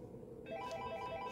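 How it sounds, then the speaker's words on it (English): A toy phone ringing, a faint electronic ringtone of repeated beeping tones that starts partway through and continues steadily in a quiet room. "Zayda, your phone is ringing and we didn't even open it"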